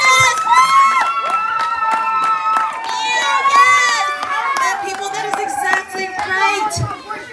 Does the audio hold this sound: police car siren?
no